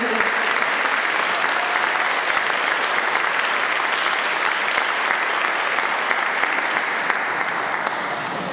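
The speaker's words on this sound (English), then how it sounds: "Big round of applause for you." Sustained audience applause fills a hall at a self-management awards ceremony, dense and steady throughout with no break, a large crowd clapping together.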